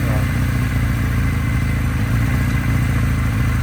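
A Kawasaki RS Z motorcycle idles slightly high, a steady, close, even mechanical thrum with light clatter running unbroken throughout.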